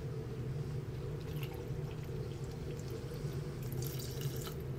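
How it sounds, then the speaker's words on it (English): Water trickles gently through a condenser set up for reflux at atmospheric pressure, a soft, steady low flow with faint dripping and splashing at times, close and alone. "now check the water rate that we need is a trickle"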